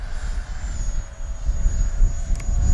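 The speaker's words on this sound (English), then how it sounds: "we'll do one more takeoff and landing" An FMS Futura 80mm electric ducted-fan RC jet with its landing gear down whines steadily at a high pitch, while a rough roar swells louder toward the end as it powers up for takeoff.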